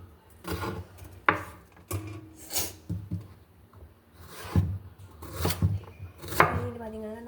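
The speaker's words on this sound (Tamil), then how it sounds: "நாங்கள் வெங்காயத்தை வெட்டி போட்டு காட்டுறேன்" Onions are chopped on a board for tea-shop style onion bonda, making a series of crisp knife strikes in irregular bursts, close and moderately loud, with short pauses and light rustling between cuts.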